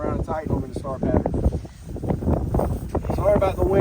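Wind gusts buffet the microphone outdoors while someone changes a car tire, with steady rushing noise under a person talking close by.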